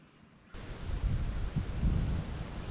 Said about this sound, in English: This wind just came out of nowhere.